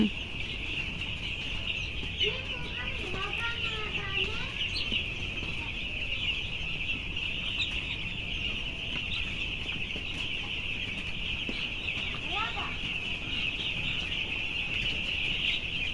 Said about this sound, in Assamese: এফালে হাঁহ দেখিছে এফালে ব্ৰইলাৰ পোৱালি দেখিছে